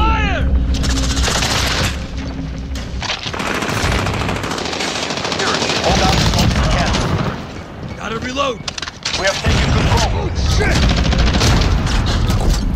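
Sustained automatic gunfire and explosions in a Call of Duty: Modern Warfare multiplayer match, dense bursts continuing throughout with brief lulls, loud and close, with voices talking over the shooting.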